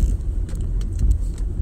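A car sits in heavy nighttime traffic in the DMV area, a steady low engine and road rumble close by, with faint light clicks above it and no voices.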